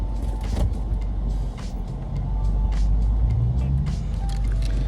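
Interior road noise from a 2025 Dodge Charger Daytona R/T HEMI under way in sport track mode: a steady low rumble of engine and tires with a faint hum, continuous and fairly loud, no talking.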